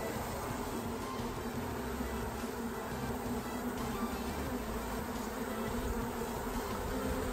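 Dense, steady buzzing of a honey bee swarm settling into a hive at a hospital fills the whole stretch, a constant droning hum with no pauses.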